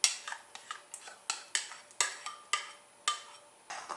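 A utensil scraping and tapping against a bowl while folding sour cream into cooled lemon pie filling, with a series of sharp, close clinks at a steady, uneven rhythm.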